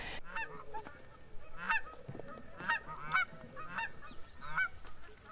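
Dusky Canada geese honk repeatedly during banding, loud harsh calls in an uneven series over several seconds, with outdoor background noise between calls.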